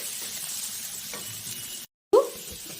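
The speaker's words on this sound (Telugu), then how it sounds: "ఇట్లా చింత చిగురు, ఫిష్, ఉల్లిగడ్డలు అంతా కలిసిందాక మొత్తానికి అల్లం వెల్లుల్లి పేస్ట్ తిప్పుకోవాలి." Tender tamarind leaves, dried fish and onions with ginger-garlic paste are stirred in a hot pan, giving a steady low sizzling hiss, then a brief silence and a sharp close scrape and clink of the spoon against the pan.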